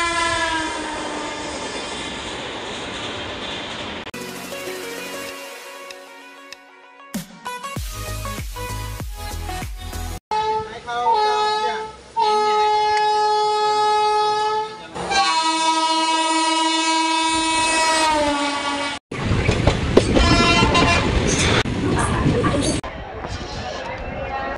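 A Vande Bharat Express train in India passes with a loud rumble and several long, tonal horn blasts sounding at close range, with the loudness changing sharply between passages.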